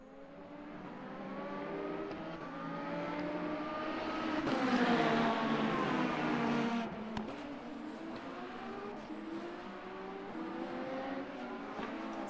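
A race car in a racing video game laps the Paul Ricard circuit in a Le Mans series event, its engine note climbing and falling through gear changes, loud and steady, with no talking.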